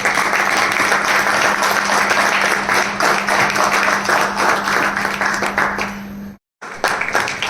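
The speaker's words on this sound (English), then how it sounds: "clap for him, please" Loud, sustained applause from a crowd at a meeting in Hyderabad, dense clapping throughout, cutting off abruptly near the end before resuming briefly.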